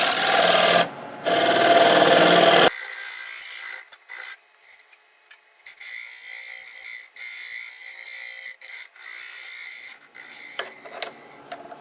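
A negative rake scraper works a Siberian elm burl bowl on a lathe, starting with loud rough scraping bursts, then giving way to quieter, broken rubbing and faint cutting contact over the spinning wood.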